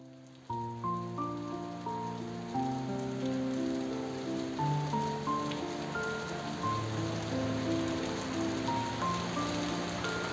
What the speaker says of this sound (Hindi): इतना हैवी रेन आप समझ सकते हो कि यहाँ पे इतना मतलब मज़ा है नेचर के साथ